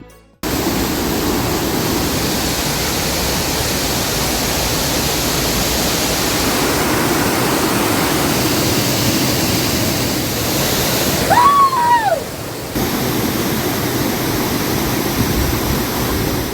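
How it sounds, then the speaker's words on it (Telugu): The Kothapalli waterfall roars steadily as a broad, loud rush of water from start to end, with a short whistle-like tone heard briefly near the end. "పరవళ్లు తొక్కుతున్న అందమైన జలపాతాన్ని చూసి మైమరిచిపోతున్నారు"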